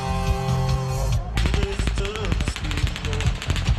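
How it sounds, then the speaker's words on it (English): Rapid bursts of automatic gunfire crackle at an outdoor Las Vegas concert, a fast mechanical rattle that cuts in abruptly over music and crowd noise and continues to the end. "30 seconds later, we hear what sounds like automatic gunfire."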